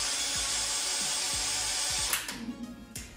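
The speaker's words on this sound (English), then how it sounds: "you can test that it's working by switching on the drill" A Hasman Lifa Driller Cable drill is switched on and runs with a steady, loud, continuous whine for about two seconds, then cuts out into a fading spin-down with faint knocks.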